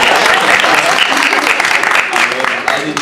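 A theatre audience at a stage production breaks into loud, sustained applause. The dense, even wash of clapping from a full house fills the room, with some voices mixed in.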